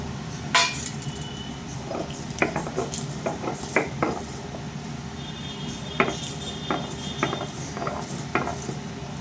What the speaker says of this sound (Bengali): ওটা আমি একটু শিলে জাস্ট একটু গুঁড়ো করে নেব